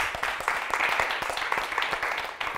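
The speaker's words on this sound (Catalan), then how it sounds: "Un fort aplaudiment per la Lia." A studio audience at a Catalan spelling quiz show gives a contestant a round of applause, a dense, even burst of many hands clapping close and continuous.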